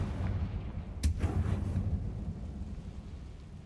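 A Confringo fire spell goes off in Hogwarts Legacy, a sharp blast at about one second followed by a rumbling boom that fades slowly, heard against a steady low drone of game ambience.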